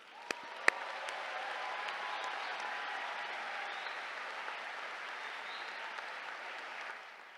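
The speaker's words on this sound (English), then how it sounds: "Let's give a big round of applause to all of our graduates." A crowd at an undergraduate commencement ceremony for a college of computing and data science gives sustained, even applause after a couple of sharp early claps, then trails off near the end with no speech.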